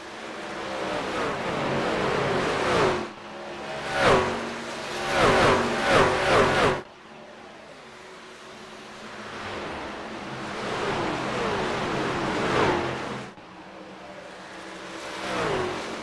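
Race trucks in a Kansas truck series race, engines roaring past in loud bursts between about 3 and 7 seconds, then a steadier, more distant drone of engines and wind noise continuing around the track.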